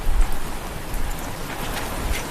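Heavy rain falls steadily as a dense, broadband hiss with no voices, holding an even, loud wash throughout with slight surges in intensity.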